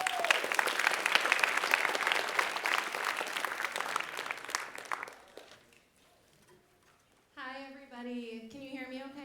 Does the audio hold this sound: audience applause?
yes